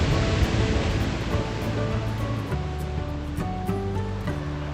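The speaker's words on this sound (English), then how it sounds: "What a magnificent river this is." The Mitta Mitta River in Australia rushes past a trout fishing spot as a steady, close, full-bodied wash of flowing water, heard alone without talk.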